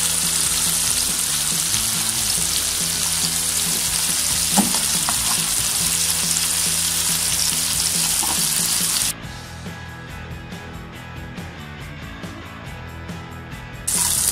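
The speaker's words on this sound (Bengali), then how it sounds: "আমার বিফ বলগুলো যখন এভাবে ভাজা ভাজা হয়ে আসবে" Beef balls fry in a pan with a continuous close sizzle and crackle that turns noticeably quieter and duller partway through, then flares up again at the end.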